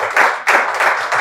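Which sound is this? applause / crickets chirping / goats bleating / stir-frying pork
applause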